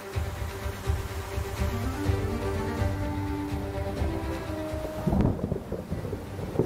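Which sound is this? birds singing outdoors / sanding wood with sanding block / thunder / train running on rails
thunder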